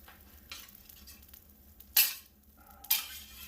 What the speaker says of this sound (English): Pardon the loud scraping.